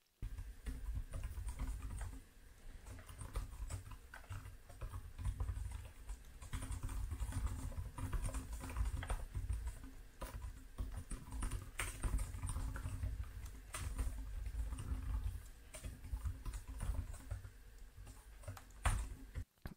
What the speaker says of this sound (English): I really like typing on this keyboard